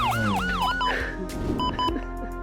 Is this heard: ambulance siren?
yes